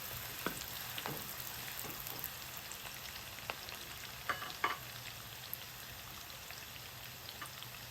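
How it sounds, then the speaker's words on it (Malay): Shallots sautéing in a pan for sambal, a quiet, even sizzle with occasional faint crackles and a few soft utensil clicks, close and with no voices. "Dan kita tumis bawang merah ni. Sampai ianya naik bau kita tumis."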